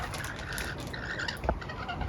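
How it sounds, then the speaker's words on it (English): Rainbow lorikeets in the Dandenong Ranges squawk and chirp steadily against an outdoor background, with a sharper call standing out near the middle. "Very active lorikeets today."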